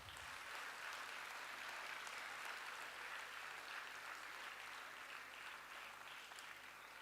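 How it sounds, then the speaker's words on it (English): Sustained, dense applause from a seated audience after a Bharatanatyam arangetram, a classical Indian dance debut recital. The clapping is even and continuous throughout, soft and somewhat distant, with no voices over it. "A big round of applause once again for Ahana."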